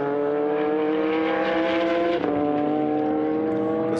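Race car at full throttle on a time attack lap on slick tyres, a loud, close, sustained engine roar with a brief gear-change dip midway, then steady high revs.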